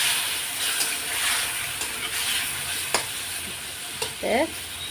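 Spices sauté in a pan for a fish curry with a continuous soft frying hiss. Occasional sharp spatula clicks and a brief chirpy squeak near the end cut through.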